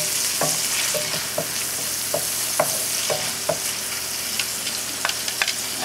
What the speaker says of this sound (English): and add the minced garlic. Take all of it out. Stir it around again.